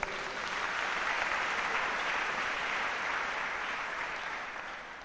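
A congregation at a French-language church service applauds, a steady wash of clapping held for about five seconds at moderate distance with no voices standing out.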